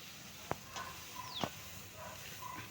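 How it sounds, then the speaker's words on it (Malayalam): Ground coconut paste being stirred in a pan for moru curry: a faint, low sizzle underneath, broken by a couple of brief, sharp spoon scrapes against the pan. "അരപ്പ് നന്നായി ഒന്ന് മിക്സ് ചെയ്ത് അരപ്പിൻ്റെ ഒരു നിറം മാറുന്ന വരെ നന്നായി ഒന്ന് ഇളക്കി മാറ്റുക"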